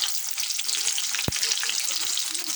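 Onions fry in hot oil with whole garam masala, bay leaf and spices for a fig curry, a steady bright sizzle with one brief low thump partway through.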